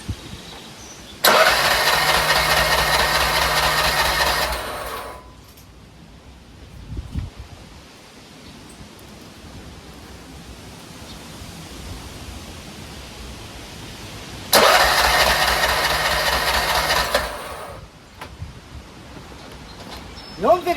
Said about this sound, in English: It just popped like a backfire, stopped, and it won't start.